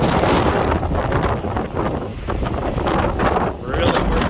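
Strong Hurricane Ian gusts roar across an outdoor microphone in surging, buffeting waves of noise that rise and fall over a few seconds, loud and close.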